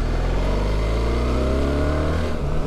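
BMW R1300 GS boxer-twin motorcycle engine pulling at 2,000 revs in third gear, a loud steady low-pitched grunt with rising harmonics as it accelerates, close and continuous with no talk.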